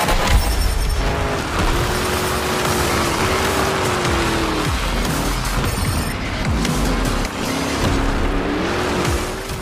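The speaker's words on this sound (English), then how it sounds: "My recommendation here would be a quality soundbar to really enjoy those roaring engines" Roaring supercharged monster truck engines from the Monster Jam: Showdown video game, a loud, continuous growl with rising and falling revs and occasional booms, played alone without talk.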